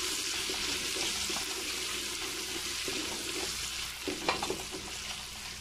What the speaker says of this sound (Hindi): हमारा प्याज ब्राउन हो गया, हल्का ब्राउन जैसे मैंने कहा था वैसे हो गया, ऐसे ही हमें चाहिए था। अब हम अदरक डालते हैं